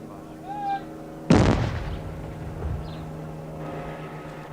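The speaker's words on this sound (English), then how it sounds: "if there's a rumbling boom, that'll mean the bags did contain explosive" A controlled explosion of suspected bomb bags during bomb disposal work in Ulster, Northern Ireland: one sudden loud blast that decays into a long rumbling tail, after a quiet outdoor lull with a faint voice just before.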